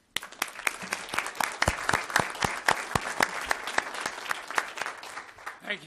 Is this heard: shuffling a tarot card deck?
no